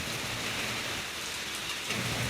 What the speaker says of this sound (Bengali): বৃষ্টিটা অল্প অল্প হচ্ছে